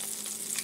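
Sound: egg frying in butter in a pan

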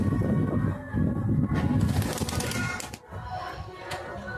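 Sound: pigeons cooing

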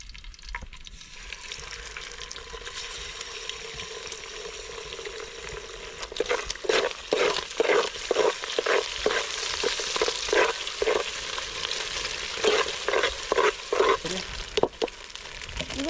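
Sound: eggs frying and being stirred for egg fried rice

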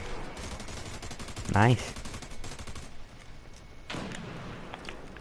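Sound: helicopter gunfire in an army video game

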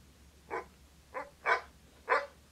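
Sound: dog barking outside

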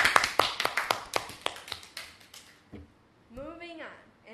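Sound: round of applause for Romeo and Juliet

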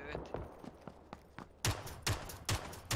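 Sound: gunfire in PUBG video game

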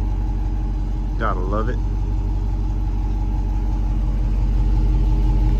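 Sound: Dodge Charger Daytona 5.7 Hemi car engine driving

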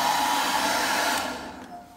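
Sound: hair dryer drying out a toilet bowl

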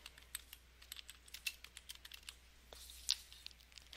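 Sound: typing on a computer keyboard

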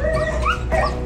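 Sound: dogs barking

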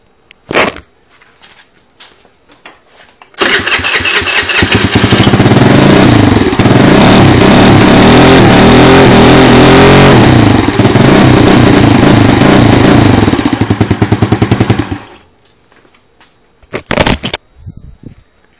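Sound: moped with bored-out engine, exhaust revving

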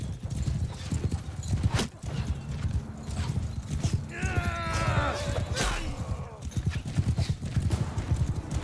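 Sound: horse hooves clip-clopping in video game Mount and Blade Bannerlord

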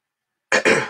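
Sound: man clearing his throat

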